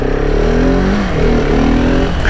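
A 2022 Husqvarna 701 supermoto single-cylinder engine revs up loud and close on a road, its pitch climbing steadily in a rising drone.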